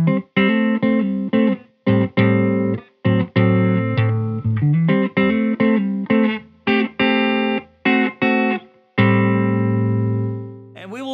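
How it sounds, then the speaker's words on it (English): Seif Guitars OH-19 electric guitar played through a Thorpy FX ER-2 Uni-Vibe pedal into a Silk Tone amp, with a choppy rhythm part of short, clipped chords in quick succession, loud and close, closing on a long sustained chord. "I wanted a really classic sounding Uni-Vibe for that."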